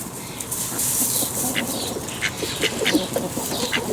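Backyard chickens cluck and call repeatedly in short bursts over a steady rushing outdoor background, likely stormy weather, with the calls close and fairly loud.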